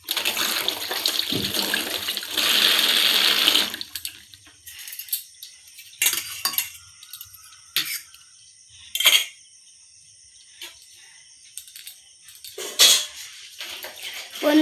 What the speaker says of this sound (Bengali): ছোটো চামচগুলো ধুয়ে নিই।